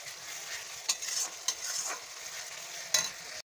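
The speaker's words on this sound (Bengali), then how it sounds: "এবার এটাকে ভালো করে" A spice paste of ground cumin and other spices is stir-fried in oil for a potato and egg dish, giving a steady sizzle with a few sharp scrapes of the spatula, close and alone with no talk.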